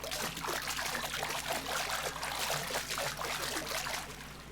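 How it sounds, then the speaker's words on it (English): Footsteps from long fall boots splash through water in Garry's Mod, a quick, rhythmic run of faint wet trickling steps over a steady low hum, with no talk. "You can also turn on the annoying footstep sound"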